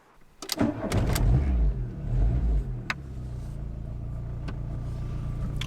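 A G60 car engine cranks with a few sharp bursts, catches and roars loudly, then settles into a steady, rough idle heard up close.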